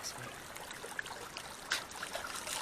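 A mountain stream flows with steady, close water noise, a broad continuous wash with small trickling and splashing details throughout.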